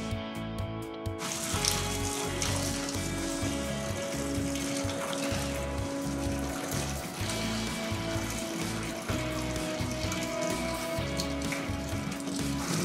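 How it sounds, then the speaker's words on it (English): Water pours from a tilted steam-jacketed electric countertop kettle into a strainer, a steady loud splashing and rushing stream with no talk, after a brief mechanical clatter at the start. "And now I'm gonna drain off the water."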